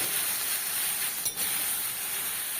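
Boiled bottle gourd greens hit a hot pan and sizzle with a steady, dense hiss that holds level throughout, briefly disturbed once as the greens settle.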